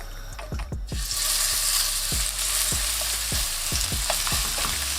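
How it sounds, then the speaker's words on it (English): Lamb chops searing in a hot pan, giving a loud, continuous close-up sizzle punctuated by regular light knocks and clicks as the meat is handled. "cook the next batch of your lamb chops"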